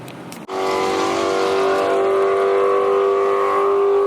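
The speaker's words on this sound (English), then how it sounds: "he doing a burnout?" Car doing a burnout at a track day: the engine leaps to a high sustained roar after a sharp onset, holding a loud steady tone close by.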